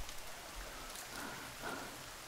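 Steady rain hisses down in the survival video game The Forest, a dense, even wash of falling drops without talking.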